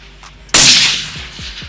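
A single sharp, loud TU 651 LRF-A rifle shot fired at a target downrange, with a long rolling echo trailing off and a few faint thumps afterward.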